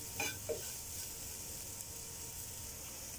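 Soft sizzle of chicken masala frying in a pan with pepper and meat masala, with a couple of quick stirring scrapes near the start before a steady low hiss.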